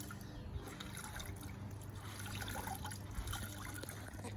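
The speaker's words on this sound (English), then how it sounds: "wring it out really good" Faint trickling and dribbling water running off a wrung-out tie-dyed shirt, a soft continuous splatter close by with no talking.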